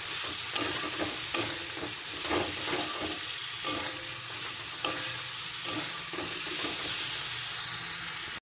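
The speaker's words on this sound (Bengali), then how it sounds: "এবার আমি এতে আলুগুলো দিয়ে কষিয়ে নেব ভালো করে" Potatoes fry steadily in spiced masala in a hot pan while a spoon stirs and scrapes, with a few sharp clinks.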